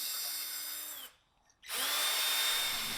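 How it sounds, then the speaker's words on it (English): Power drill running at low speed to clean the threads of wheel studs: a close, steady motor whine that winds down, stops for about half a second, then spins back up and holds. "you have your drilling machine on a very low speed, and then you just go up and down the thread"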